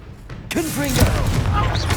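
A Confringo blasting spell explodes in Hogwarts Legacy with a sudden loud burst, followed by a rumbling tail while a voice talks over the blast.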